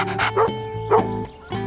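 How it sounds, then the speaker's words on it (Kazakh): A dog barks three or four short, sharp times in quick succession, loud and close, with a steady tonal hum beneath. "Ит."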